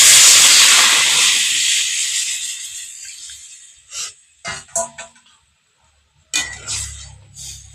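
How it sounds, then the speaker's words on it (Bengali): Water poured into a hot pan of cooking snake gourd bursts into a loud steam hiss that slowly fades, followed by a few short metallic clinks of a utensil against the pan. "এবার কিছুটা পরিমাণে জল দিয়ে দেব।"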